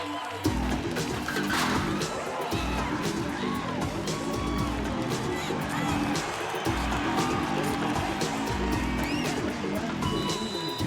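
Dense, steady roar of an excited crowd on its feet in a bull riding arena, with cheers and whoops swelling over a continuous loud murmur for the whole stretch, close and full.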